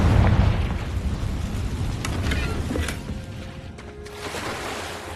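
A Confringo blasting spell detonates in Hogwarts Legacy, a heavy booming burst with a rumbling tail that slowly fades away.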